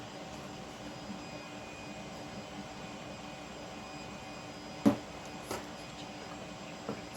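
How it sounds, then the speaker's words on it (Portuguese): A hair dryer hums faintly in the background at home, a steady airy drone that continues throughout, broken by a few brief knocks. "se vocês estiverem ouvindo um barulho de secador, é minha mãe que tá secando o cabelo"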